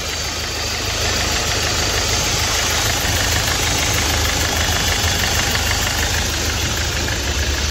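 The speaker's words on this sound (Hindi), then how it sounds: "ये पूरा आइडल भी एकदम परफेक्ट है" A Ford EcoSport engine idles steadily after a cylinder head refit and timing job, a close, even mechanical hum with a faint ticking knock throughout and no talk.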